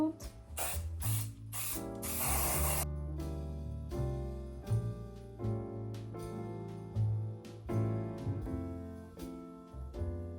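Green spray paint goes onto Christmas decorations in several quick hissing bursts and one longer spray near the start. A voice and other background sound carry on afterward.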